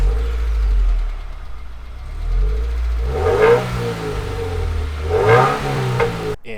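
A stock 2015 Subaru WRX idles with a low exhaust rumble, then revs twice in two quick rising and falling bursts, close and loud.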